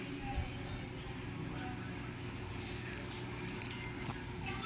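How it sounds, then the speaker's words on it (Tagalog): The keys of a Honda Wave 125i motorcycle jangle close by in a few light metallic bursts, mostly near the end, over a low steady background hum. "At mayroon tayong hawak na susi ngayon. Ayan o. So, susi ng Honda."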